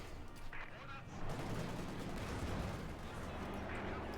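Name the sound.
rockets landing on a T-70 tank in Company of Heroes 2 video game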